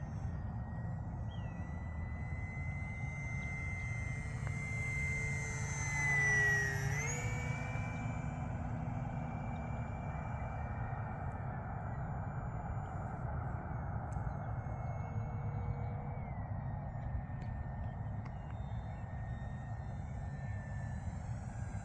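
An FMS 1500mm Cessna 182 RC airplane in flight on its maiden outing, its electric motor a steady high whine passing overhead, swelling briefly as it flies close, then settling back into a continuous distant drone over wind and background noise.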